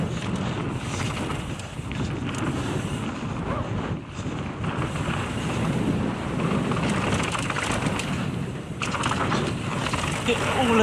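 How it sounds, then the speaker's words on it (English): Heavy wind roars and rumbles against the microphone in sustained gusts, loud and close, with a voice briefly audible beneath it, on mountain bike trails at Black Mountains Cycle Centre. "Oh, so windy."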